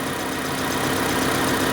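A Proton Satria engine idles with a misfire on cylinder one, a steady, fairly loud mechanical drone with an uneven, lumpy pulse running throughout.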